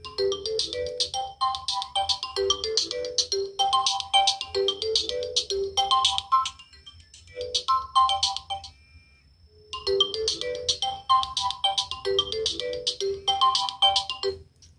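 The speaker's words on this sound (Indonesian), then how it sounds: "teman-teman bisa dengar terlebih dahulu untuk nada dering WA HP Samsung A05 saya sebelum diganti nada deringnya seperti ini" Default WhatsApp ringtone on a Samsung A05 phone plays alone as a bright, repeating melodic phrase that loops in two rounds, with a short pause partway through.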